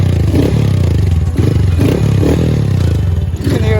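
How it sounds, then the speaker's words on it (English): Honda Grom motorcycle with an exhaust extended about three inches revving loudly up close, the engine note rising and falling in repeated pulses. "The exhaust sounds real nice."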